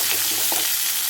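Potatoes fry in a pan with a steady, close hiss, and a brief scrape of stirring comes partway through. No one speaks.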